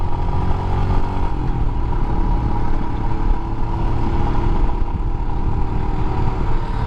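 Steady engine drone from a Royal Enfield Himalayan 411 motorcycle under way, a continuous mid-pitched thrum with wind noise and slight rises in revs, close and loud with no talking.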